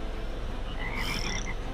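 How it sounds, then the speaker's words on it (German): Frogs croak in the artillery game Shell Shock Live, a short burst of bright, warbling croaks rising briefly over a steady game background. "Oh nein, die Frösche."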